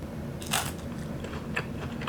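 A close, crisp double crunch as someone bites into pumpkin tempura, two sharp bites about a second apart over a quiet room.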